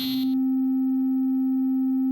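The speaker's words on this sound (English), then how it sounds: "If I decrease this to 0, we're only going to hear a sine wave at that same frequency." A pure sine wave tone from a Kaleidoscope generative groovebox synthesizer holds steady and loud at one pitch after a brief burst of brighter, buzzier sound at the start.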